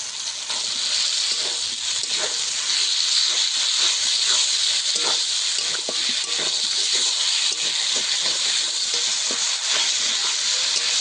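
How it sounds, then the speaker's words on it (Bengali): Potato chunks sautéing in oil spiced with cumin and masala, a loud, steady hissing sizzle with scattered crackles and spatters, close up and unbroken for the whole stretch. "আলু দিয়ে ভালো করে একটু কষাবো"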